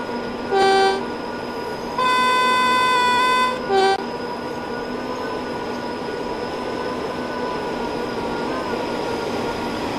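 A Class 86 electric locomotive in Train Sim World 5, its horn sounding in a short toot, a longer blast and another short toot over a steady running hum and rail noise, loud and near.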